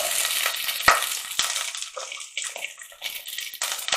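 Chopped carrots hitting celery already frying in a hot pan, a close, steady sizzle with a sharp clatter as the pieces drop in, then continued crackling and stirring with no talking.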